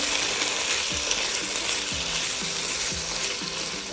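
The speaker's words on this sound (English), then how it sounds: "So it's passata, and just mix it all together." Rajma frying in a pan gives a steady sizzle while passata is mixed in, with a rhythmic scraping and knocking of the spoon about once a second, close up.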